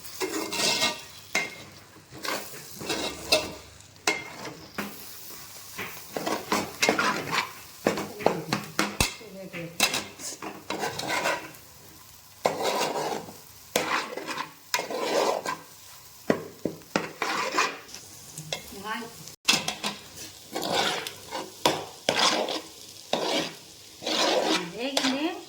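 Eggs seasoned with salt and chili powder being stirred in a pan, repeated scraping and clinking of a utensil against the pan over a soft sizzle, with a person talking throughout.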